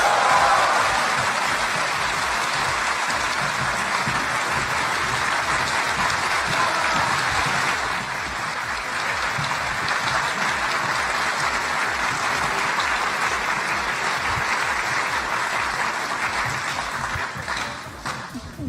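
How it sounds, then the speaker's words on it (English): An audience at a Waseda University event applauds speakers as they come to the stage, with loud, even clapping from a large hall that continues for nearly twenty seconds and eases slightly partway through. "Can you give them a good applause?"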